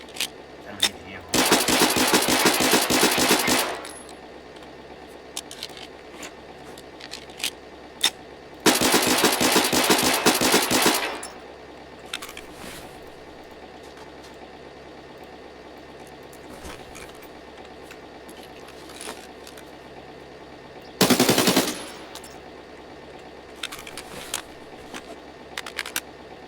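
Bursts of automatic gunfire from the video game Escape from Tarkov rattle in three long, loud volleys separated by quieter stretches of scattered game noise and occasional single shots.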